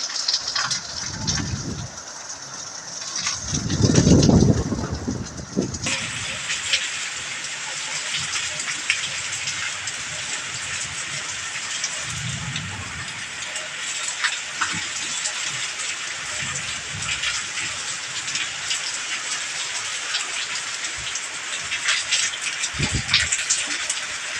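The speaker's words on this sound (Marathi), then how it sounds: "असा हा पाऊस जोराचा आहे" Heavy monsoon rain pours down in a steady broadband wash, growing denser after the first few seconds, with occasional low rumbling bursts beneath it and no speech.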